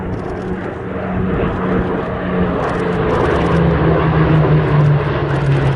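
A Hawker Hurricane fighter flies past at Sywell Airshow, its piston engine a loud, sustained roar that swells gradually as the aircraft approaches.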